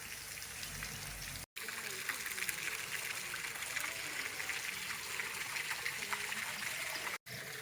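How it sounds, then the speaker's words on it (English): Shower water runs steadily before a dip in hot springs, a continuous hissing spray that fills the clip, broken twice by brief dropouts. "Before getting in the hot springs, you have to shower."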